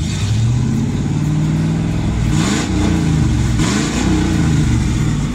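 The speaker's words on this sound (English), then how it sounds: "Let's give this some revs here." A 1995 Ford Mustang GT V8 idles loudly up close, then is revved several times, each blip rising and falling in pitch before settling back to a rumbling idle.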